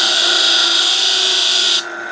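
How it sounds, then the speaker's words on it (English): A stationary disc sander, switched by a foot-operated air switch, squares up and shortens the end of a guitar fret: a loud, steady abrasive whir that cuts off abruptly near the end. "Now with the stationary disc sander, I've got this on a foot switch, the air switch."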